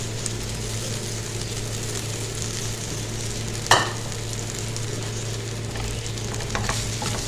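Two grated potatoes frying in a hot pan for potato bites, an even close sizzle over a low steady hum, with one sharp scrape of stirring midway and a few light clinks later.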